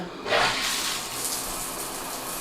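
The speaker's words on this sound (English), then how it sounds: "now the only thing we need to do is turn the water back on and test it" A newly installed Delta In2ition handheld shower head is switched on, starting with a sudden gush, then a steady, close hiss of spraying water.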